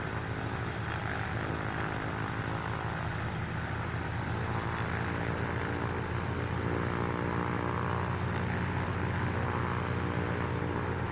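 Simulated propeller aircraft taxiing in Microsoft Flight Simulator 2024, a steady, faint, even propeller-engine drone with a low harmonic hum holding constant pitch throughout, no voices.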